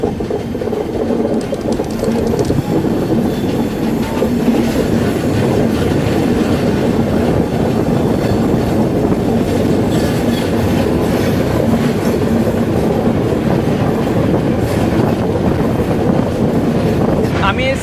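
A train runs along a rail line passing beneath a road bridge, making a loud, continuous rumble with faint clickety-clack and wind buffeting throughout.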